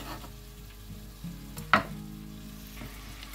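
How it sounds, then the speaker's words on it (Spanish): Finely chopped vegetables frying in a pan while preparing hake and prawn meatballs, a steady low sizzle with a brief louder stir or clatter near the middle, close and fairly quiet, no talking. "lo llevamos también a la sartén"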